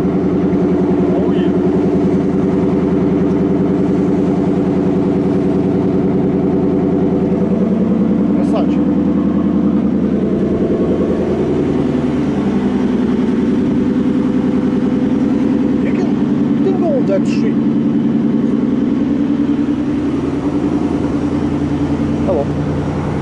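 A rented motorbike's engine runs steadily through the whole stretch, a loud continuous mid-low drone from close behind, with people talking over it.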